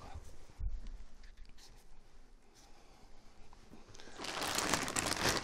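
A package of frozen meatballs is opened with a quick wipe of scissors nearby, giving soft plastic crinkling and rustling that swells into a louder, brighter crackle toward the end.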